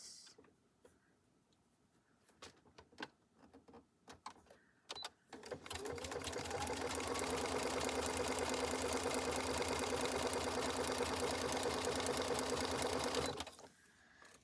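A sewing machine stitches, preceded by a few seconds of quiet clicks and handling. It then runs in one loud, continuous mechanical whir for about eight seconds and stops abruptly.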